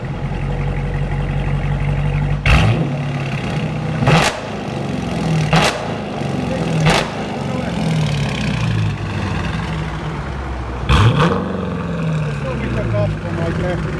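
Revs from a 2018 Dodge Challenger R/T with dual exhaust, resonator delete and stock mufflers: a deep idle broken by five sharp throttle blips, each a loud bark that quickly falls back, with voices talking underneath.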